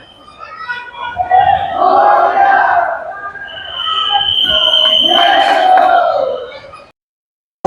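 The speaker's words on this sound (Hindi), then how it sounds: "यहाँ पर है गाइस भीड़ और सामने ही पंडाल है" Dense crowd murmur of devotees queuing at the Lalbaugcha Raja pandal in Mumbai, a loud, continuous babble of many voices with a few raised shouts rising over it.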